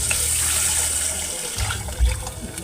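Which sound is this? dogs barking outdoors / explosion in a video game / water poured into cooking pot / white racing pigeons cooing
water poured into cooking pot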